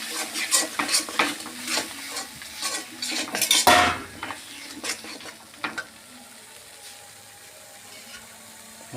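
Spice paste for a salted hilsa curry being stir-fried in a pan, with brisk scraping and clinking of a utensil over a sizzle, busy at first, then quieter with occasional taps.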